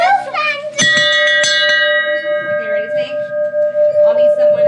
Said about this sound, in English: You like that bell, baby?